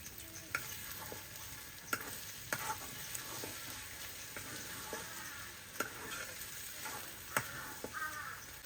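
Tomatoes and green chillies frying in a pan on a home village kitchen stove, a steady soft sizzle broken by sharp clinks and scrapes of a stirring spoon, with crows cawing faintly in the background.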